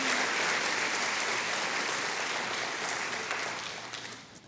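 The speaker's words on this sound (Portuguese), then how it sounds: "Você pode aplaudir o Senhor?" Church congregation applauding during a Portuguese-language sermon, dense continuous clapping that slowly thins and fades toward the end.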